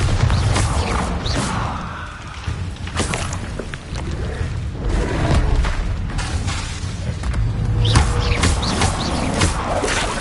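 Spell explosions from Hogwarts Legacy, the Bombarda blast in a wizard duel, come as repeated booming bursts over a dense, busy game soundtrack, loud and close, with other combat effects throughout.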